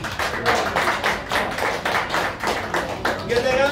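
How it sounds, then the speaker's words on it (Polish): A small audience claps in rhythmic bursts for contestants who have just finished a pepper-eating race, with the pulses loud and close and some voices mixed in. "Brawa dla nich."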